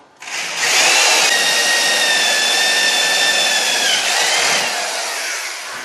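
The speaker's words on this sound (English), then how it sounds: "I'm going to drill out those bolt holes, those holes in the stud, so I can get a new cotter pin through them." A power drill bores out the cotter pin holes in a front wheel stud on a Honda Civic during a wheel bearing job, a loud, steady, high whine lasting about five seconds, close up and alone.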